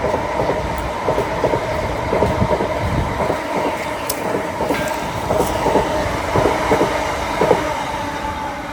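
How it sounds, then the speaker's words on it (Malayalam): A train rumbles past with steady rhythmic clickety-clack of wheels on rail joints, continuous and fairly close, with occasional faint metallic squeals. "ആ ട്രെയിൻ പോകുന്നു ട്രെയിൻ"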